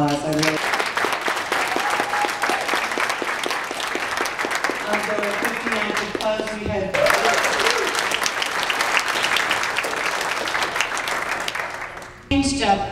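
A large awards-night crowd applauds delegates and alternate delegates from the Seattle convention, with sustained, dense clapping that swells briefly around the midpoint and runs loud and unbroken until a short dip near the end.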